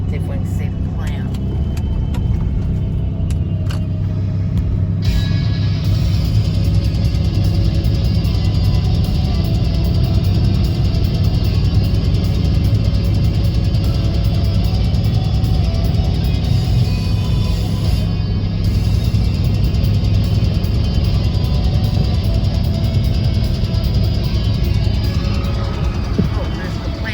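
A car drives down a road past a coal ash contaminated power plant in Belmont, North Carolina, with a loud, steady engine and road rumble running throughout and speech underneath.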